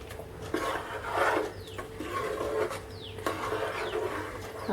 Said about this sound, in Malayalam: തീ ഓഫ് ചെയ്തതിന് ശേഷം നമുക്ക് ചെറുതായിട്ടൊന്ന് ഇളക്കി കൊടുക്കാം